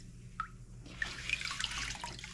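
Water drips and trickles off a cast iron pan as it is lifted out of a vinegar water soak: a few distinct droplets plink, then a steady splashing runoff, close by.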